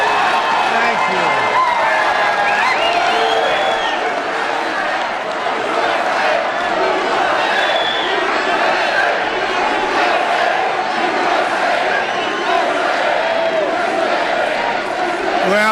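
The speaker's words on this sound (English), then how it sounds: "What a crowd. What a beautiful crowd." Dense rally crowd in an arena roaring, cheering and clapping continuously at high volume, a sustained wash of voices and applause throughout.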